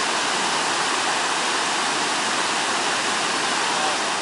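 Iguazu Falls, the biggest waterfall, pouring as a constant dense roar of rushing water, loud and unbroken throughout.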